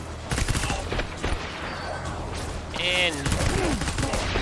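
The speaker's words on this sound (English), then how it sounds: "Change on to a different assault rifle." Assault rifle fire in the Death Stranding video game comes as rapid crackling shots of moderate loudness among other game sounds, with a voice talking over parts of it.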